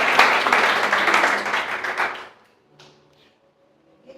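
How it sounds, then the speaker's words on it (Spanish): Church congregation applauding loudly for about two seconds, a dense wash of clapping that quickly dies away into near silence with a few faint knocks afterward. "Denle el aplauso fuerte si es para el Señor"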